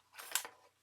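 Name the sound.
cutting a wedge out of card stock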